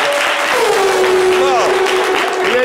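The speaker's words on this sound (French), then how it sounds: "Merci pour nous on peut l'applaudir," Dense applause from an audience fills the clip, with a voice speaking over the clapping.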